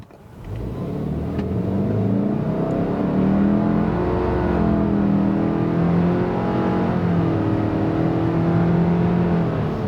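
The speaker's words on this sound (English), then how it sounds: "one more time here at full throttle up to highway speed" A 2024 Subaru Ascent with a CVT drones at high, nearly constant revs as it accelerates at full throttle up to highway speed, a smooth sustained whine that climbs only slightly over time.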